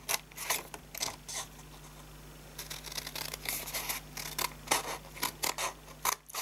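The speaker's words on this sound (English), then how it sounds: "Flip it and cut up each opposite side like that." Scissors snipping through paper up opposite sides of an envelope-punch-board basket, with a series of close, crisp cutting snips in irregular bursts and short pauses between them.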